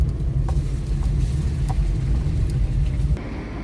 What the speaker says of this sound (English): It's time to get back into my car and go for a short drive.